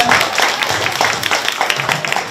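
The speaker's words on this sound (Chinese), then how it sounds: "再给他一个掌声" Audience applause at a church Christmas concert in Tainan, a dense burst of clapping from a crowd filling the whole moment, fairly loud with individual claps popping through.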